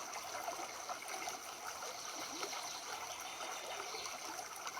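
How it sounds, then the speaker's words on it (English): Steady rushing river water flowing continuously and softly, a broad even wash with no voices, used as calming background for a yoga session. "If you guys can hear this water music in the background"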